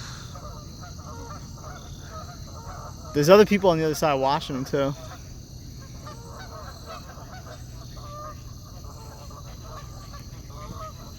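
Geese out by woodland honk in a brief loud burst of several overlapping calls partway through, over quiet background, with a person talking nearby.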